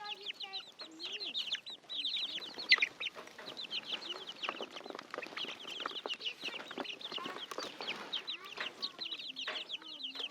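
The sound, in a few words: chickens clucking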